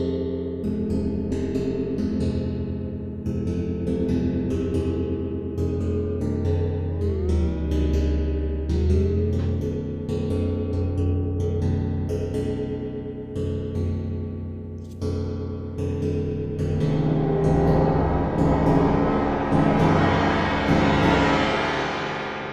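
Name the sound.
simulated connected plates struck, rattling non-linear connections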